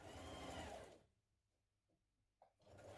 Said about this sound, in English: we're going to stitch around this curved edge